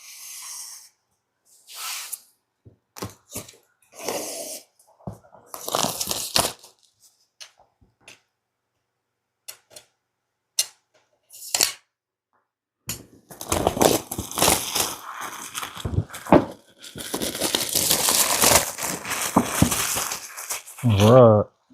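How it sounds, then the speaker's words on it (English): A board game box is cut open and its shiny cellophane wrap is torn away and crinkled. Sparse cuts and scratches come first, separated by gaps, then dense, sustained crackling of plastic close to the microphone. "So let's go ahead and cut this box open and see where we're at."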